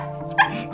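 A dog lets out a single short, sharp bark or yip, close and fairly loud, over a low background hum.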